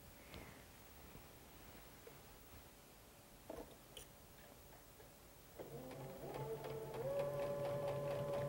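A sewing machine stitches quilt seams for a pineapple log cabin quilt, its steady mechanical whir starting partway through and growing louder and more continuous toward the end after a quiet stretch with a few faint clicks.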